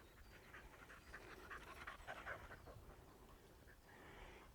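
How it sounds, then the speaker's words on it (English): A spaniel pants as it runs past on a countryside summer walk, quick soft breathy pants in a short burst that rises and fades, fairly faint over steady outdoor background noise. "you probably heard a spaniel running past me"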